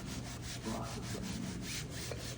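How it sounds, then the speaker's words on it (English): Rag and black scrub pad working over a surface during a deep clean, a quick, rhythmic back-and-forth rubbing scrape repeated about ten times, close and moderately loud. "And look at that, I'm scrubbing it."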